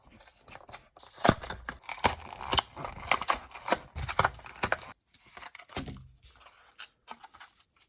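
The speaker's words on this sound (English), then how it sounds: "Let's crack it open. That's some thick cardboard in this." Thick cardboard toy packaging for die-cast Transformers cars being pulled open, with close, irregular tearing, scraping and crinkling bursts, then a brief pause before a few quieter rustles.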